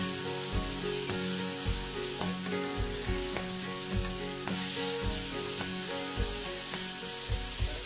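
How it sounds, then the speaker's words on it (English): Ginger, garlic and chilli sizzle and crackle in a hot frying pan, a close, continuous hiss punctuated by regular scraping knocks of stirring, with no talk. "And you throw your ginger and your garlic and your chilli all in together"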